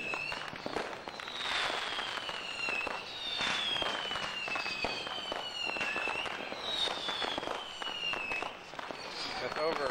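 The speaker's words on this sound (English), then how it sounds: "In a subdivision where the people love their fireworks." Continuous neighborhood fireworks in a Chalmette, Louisiana subdivision, with dense crackling bursts, sharp pops and whistling rockets overlapping without pause, some close and loud, others farther off, and a voice speaking over them.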